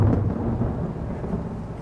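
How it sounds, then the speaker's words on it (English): Thunderstorm outside rumbles as a low, rolling roar of thunder over rain, a fairly loud continuous grumble that gradually eases. "outside a storm."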